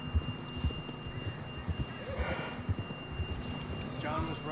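Rhythmic clip-clop of horse hooves at a steady trot in Red Dead Redemption 2, with faint wind and muffled voices in the background.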